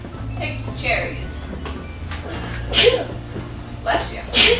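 A child's sneeze bursts out in a short, sharp blast over steady low background hum in a classroom, followed by a second breathy burst a moment later.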